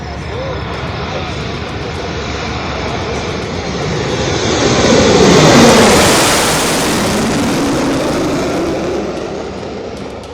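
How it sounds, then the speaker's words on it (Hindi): Fighter jets practising a night landing on the Ganga Expressway, a loud broadband jet roar that swells to a peak midway and then eases off, heard alone without speech. "एक्सप्रेसवे पर फाइटर जेट्स ने नाइट लैंडिंग का अभ्यास किया"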